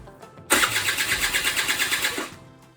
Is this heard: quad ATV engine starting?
yes